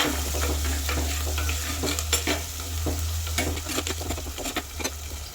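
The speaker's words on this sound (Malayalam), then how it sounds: "അതിലേക്ക് ഞാൻ കൊടംപുളിയും വേപ്പിലയും പച്ചമുളകും കൂടി ഇട്ട് കൊടുക്കുകയാണ്. അത് ഒന്ന് ഇളക്കി യോജിപ്പിക്കാം." Shallots, ginger, garlic, kudampuli, curry leaves and green chili are stirred in a pan, oil sizzling steadily beneath irregular scrapes and knocks of the spoon against the pan over a low hum.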